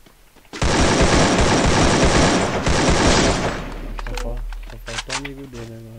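Rapid automatic gunfire from a shooting video game, a loud sustained burst lasting several seconds, then sparser shots as someone talks over it.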